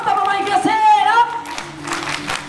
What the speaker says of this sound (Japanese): じゃあ僕が拍手って言ったら大きい拍手をください